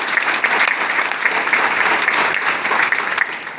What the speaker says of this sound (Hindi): एक शानदार ताली हो जाए सर के कार के लिए।